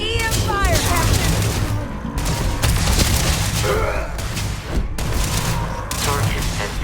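EM weapons fire in space combat in Starfield, a dense, loud, continuous barrage of booming, crackling shots with sweeping tones, close and sustained throughout, with voices talking over the combat.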